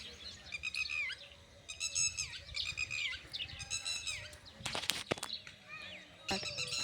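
Sparrow chicks chirping from a nest, a busy cluster of high, thin cheeps overlapping in quick bursts, fairly close but soft, with a few sharp broadband knocks partway through.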